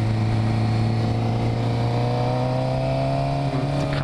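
A Ducati motorcycle rides past with a loud, steady engine drone of strong harmonic tones, its pitch gliding slightly as it goes by, with no one talking.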